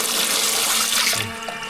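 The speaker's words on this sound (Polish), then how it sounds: "Czysto, tak wodę pobieram." Water runs from a tap in a storm-flooded warehouse, a loud steady rushing gush that cuts off abruptly partway through, leaving a quieter trickle.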